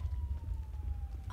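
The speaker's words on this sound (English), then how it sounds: "Oh shit, I hear the police!" Police siren in a roleplay video game, a faint steady wail sitting under a heavy low rumble of game ambience, with no one talking over it.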